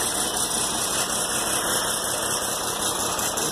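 An old diesel engine idles after a cold start, its loose fan belt adding to a loud, steady knocking rumble up close, with an even clatter and no speech.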